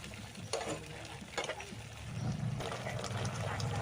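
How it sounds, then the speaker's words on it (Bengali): Cornflour slurry poured into a hot pan of chilli paneer gravy, giving a close bubbling sizzle that grows louder and steadier after a few scraping stirs. "এবার প্যানে কর্নফ্লাওয়ারের জলটা দিয়ে দেবেন"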